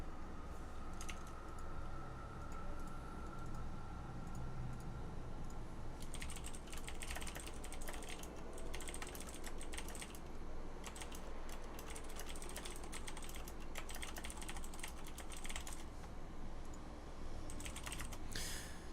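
Fingers type on a computer keyboard that has had water spilled on it: quiet, rapid clusters of key clicks and clacks in irregular bursts, close but faint over a low steady background hum, with no talking.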